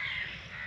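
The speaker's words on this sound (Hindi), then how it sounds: "चिड़ियाँ बोल रही हैं, चिड़ियाँ चहचहा रही हैं" A crow caws in a village at morning, a faint, somewhat distant rasping call under the quiet outdoor air, with no one speaking.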